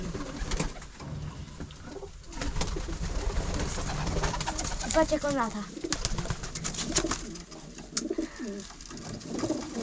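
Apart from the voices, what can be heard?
pigeons cooing in a loft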